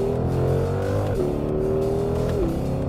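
A 2020 Ford Mustang Shelby GT500 with a DCT gearbox accelerating hard in manual mode, loud, steady engine roar rising in pitch, with a quick gear change near the end.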